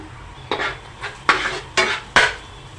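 Cauliflower and potato sabji with tomato gets stirred in a pan, giving five distinct scraping, clattering strokes of a spoon against the metal at an uneven rhythm, close and fairly loud, with no voices.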